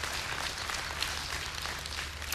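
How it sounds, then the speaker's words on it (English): Audience applause during a talk on marriage, a soft, even patter of many hands clapping, fairly quiet and distant, continuing steadily without speech. "Thank you for that thunderous applause."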